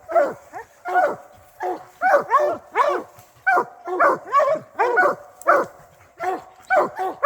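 Several hunting dogs bark and bay outdoors on a cool, wet morning, a steady run of loud, close barks and yips repeating in quick overlapping bursts with no talk.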